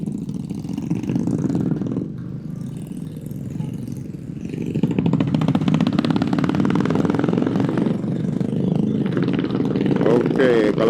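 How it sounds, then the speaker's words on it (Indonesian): A motorcycle engine runs steadily during a group ride, a mid-pitched idling rumble that swells into a stronger revving drone partway through, with voices talking over it. "ini ngomong-ngomong Om Doli baru ganti motor kayaknya ini."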